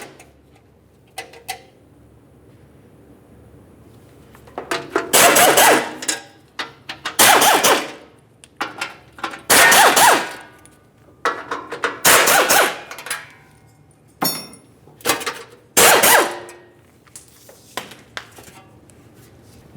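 Six 13mm bolts coming off the skid shield of a 1998-2002 Lincoln Navigator: close, sharp ratcheting bursts in irregular clusters, loud and clear, with quieter metallic clicks in the gaps.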